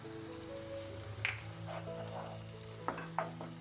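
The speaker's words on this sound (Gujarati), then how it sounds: "ડુંગળી ટમેટા સાથે ચણાનો લોટ નાખી દેશું એટલે આપણો લોટ સારી રીતે શેકાઈ જશે." Gram flour roasting in a pan with onion and tomato gives a quiet, steady sizzle, with a few soft scrapes and taps of stirring at intervals.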